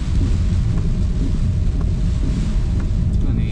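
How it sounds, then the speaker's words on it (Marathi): Steady rain and wind buffet a vehicle in monsoon weather on the Malshej Ghat road, a dense, loud, continuous rush with low rumble throughout. "पाऊस देखील चालू झालाय"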